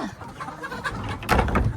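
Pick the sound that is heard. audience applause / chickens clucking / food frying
chickens clucking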